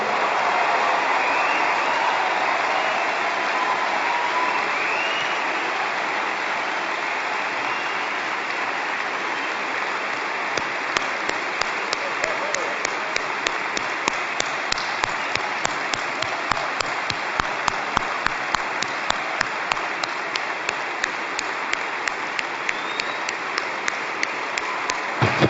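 A crowd of 13,000 at an AIPAC conference stands and applauds, a broad, steady roar of clapping that grows denser and more intense over time, heard from within the hall.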